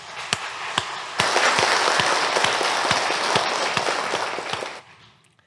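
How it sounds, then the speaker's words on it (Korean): A church congregation at a Sunday worship service applauding the choir, with a few scattered claps that swell into full, steady applause, which then tapers off and stops. "박수 한번 쳐드리죠."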